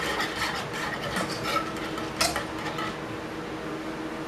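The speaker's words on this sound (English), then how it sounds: "So we're just going to keep stirring and stirring, and it's going to get there." Homemade banana pudding stirred in a pot, a utensil scraping and clinking against the metal in a steady, continuous rhythm, close and fairly loud, with no talking.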